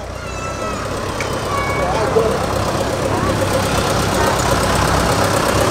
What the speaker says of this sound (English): We've got a Fordson.